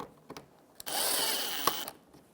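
A 10mm socket turns a screw to snug up an inner fender liner on a 2013-2018 Toyota RAV4, giving a close, steady mechanical whir for about a second, with a few light clicks before and after.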